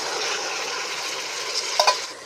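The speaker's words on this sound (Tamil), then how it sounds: "இஞ்சி பூண்டு பேஸ்ட் உப்பு தக்காளி நல்லா வதங்கிடுச்சு" Tomatoes with ginger-garlic paste and salt sautéing in a pan for biryani, a steady close sizzle with soft stirring scrapes and two brief utensil clinks near the end, no talking.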